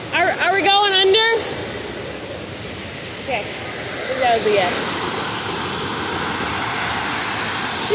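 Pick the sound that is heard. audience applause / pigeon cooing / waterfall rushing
waterfall rushing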